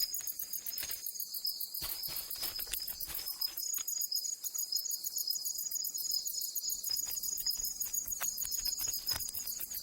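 Insects call through the night on Sulawesi in a dense, steady high-pitched trill, cricket-like and continuous, with a few faint clicks and ticks mixed in.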